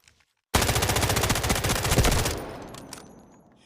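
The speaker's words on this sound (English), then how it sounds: "now let's just shoot the gun and see what we need" A weapon in the Delta Force shooter fires a rapid automatic burst of about two seconds, with evenly spaced loud shots, then a decaying echo and a few faint mechanical clicks.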